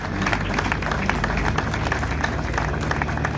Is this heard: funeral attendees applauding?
yes